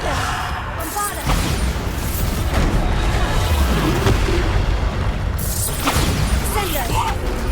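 Booming blasts of the Bombarda explosion spell in Hogwarts Legacy go off amid loud, continuous spell-combat clamor, with a voice calling out over the fighting.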